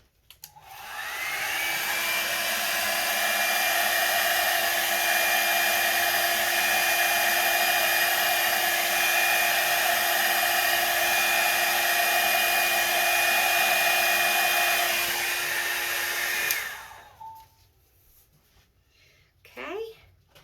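A Revlon hair dryer tool blows steadily and loudly with a constant whooshing whine for about fifteen seconds, then cuts off, leaving quiet handling noises.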